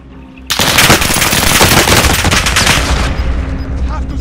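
Automatic gunfire erupts suddenly in Call of Duty: Warzone, a loud, rapid, continuous burst of shots lasting about two and a half seconds before tapering into a fainter trailing rattle.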